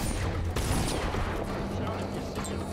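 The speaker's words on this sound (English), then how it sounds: "You're being shot at." Dense in-game gunfire in Dishonored, a continuous loud barrage of overlapping shots and booms from the game mix, heard with talking over it.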